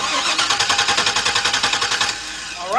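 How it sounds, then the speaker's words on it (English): A 2002 Workhorse Fastrack FT1061 cranking without starting, a loud rhythmic starter churn pulsing evenly for about two seconds, then a brief pause and a rising whine. "What we're going to do is crank the engine."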